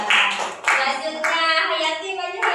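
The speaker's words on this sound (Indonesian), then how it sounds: "Ya, bujur tepuk tangan." Children in a classroom clap their hands together in a quick, loud burst of rhythmic applause, with young voices mixed in during a lesson game.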